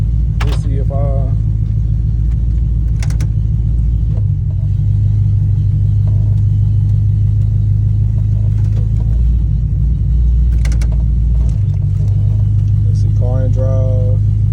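A Ford Crown Victoria engine idling as a low, steady rumble close by, with someone talking over it now and then and a brief shift in the engine note partway through.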